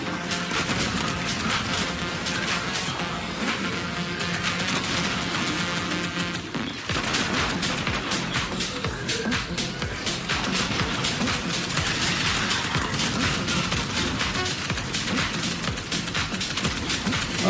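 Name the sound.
gunfire in Destiny 2 video game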